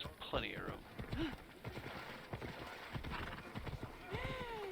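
Horse hooves clip-clop in Assassin's Creed Odyssey, a steady near trot mixed with a short whinny, heard under game sounds and someone talking.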